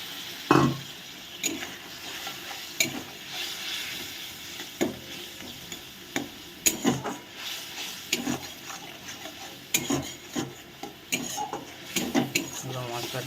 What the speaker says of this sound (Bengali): লবণ ভালো করে মশলাটাকে কষিয়ে নেব আর একটু জল অ্যাড করছি